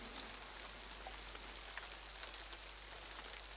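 Heavy rain pours steadily and densely, a constant broadband hiss of drops on surfaces that stays loud and unbroken throughout, with no voices.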